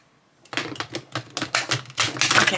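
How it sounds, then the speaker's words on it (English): Thick, glossy medium-to-heavy oracle cards being shuffled by hand, giving a run of crisp, close riffling flutters and slaps in quick uneven bursts with brief gaps between them. "Let's see how they shuffle."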